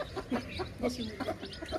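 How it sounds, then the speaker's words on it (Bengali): Native laying hens clucking nearby, irregular short clucks and calls over a busy background with faint voices mixed in. "এই যে এটা ডিমপাড়া মুরগি আমাদের ওই যে আরেকটা আছে ডিমপাড়া"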